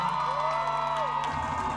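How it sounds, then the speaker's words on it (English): A crowd at an album launch concert applauds and cheers for a performer, with a rising whoop standing out above the steady wash of clapping and crowd noise. "I just wanna give Ramesh a round of applause."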